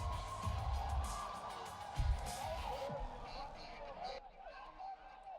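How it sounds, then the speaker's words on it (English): Boxing stadium crowd at Lumpinee roaring and cheering at the end of a Muay Thai round, a dense sustained wall of noise with brief surges, under a commentator's voice. "The crowd are going absolutely wild."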